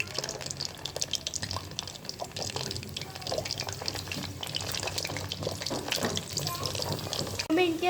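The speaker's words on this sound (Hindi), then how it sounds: "ये देखें कितने अच्छे हमारे स्प्रिंग रोल जो है वो फ्राई हो रहे हैं।" Chicken spring rolls sizzle in hot oil in a wok over a medium flame, a steady dense crackle and hiss of frying that runs throughout, close and fairly loud, with faint clinks and stirring.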